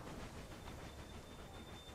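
Train in the railway management game Railway Empire pulling into a station, a steady dense rumble of rolling wagons with a faint high whine above it, continuous and fairly close, no talk.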